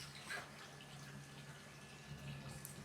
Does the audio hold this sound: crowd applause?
no